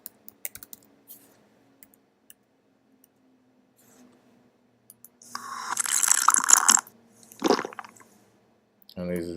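Someone types on a computer keyboard, first as sparse faint clicks, then as a louder burst of rapid keystrokes up close. Brief scraping noises and a short bit of voice come near the end.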